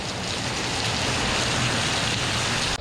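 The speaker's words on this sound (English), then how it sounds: "only to get pounded by another torrential downpour" Heavy torrential rain pours down in Florida in a dense, constant hiss, a loud, unbroken downpour with no other sounds.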